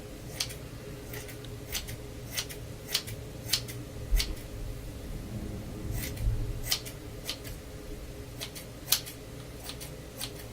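Scissors snip through hair at close range, a quick series of sharp, crisp cuts in uneven bursts against a quiet room, with no talking.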